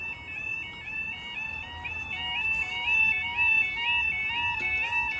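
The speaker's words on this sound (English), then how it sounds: "that alarm skipped again" Electronic level crossing alarm at Noose Lane, a steady two-tone warbling chime repeating continuously at close range with traffic rumble beneath and no talk.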